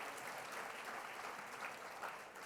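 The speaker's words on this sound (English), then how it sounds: "Jim and Robin Carey, they get applause too." Audience at a Zero Tolerance benefit gala applauds sponsors, a steady wash of clapping from many hands in a hall, moderately distant and sustained throughout without talk over it.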